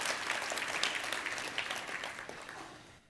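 A conference keynote audience claps, a dense burst of applause from many hands that slowly thins and fades out over a few seconds.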